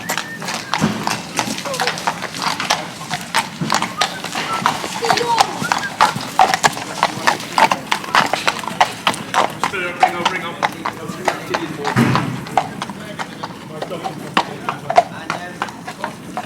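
Horses' hooves clip-clop on hard ground in a racing yard, a steady run of sharp close knocks that goes on throughout while people talk.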